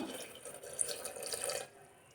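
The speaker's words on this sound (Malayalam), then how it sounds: "കുറച്ച് വെള്ളം ഒഴിച്ചു കൊടുക്കാം" A short stream of water pours and splashes into a pressure cooker for under two seconds, then stops abruptly, leaving quiet room tone.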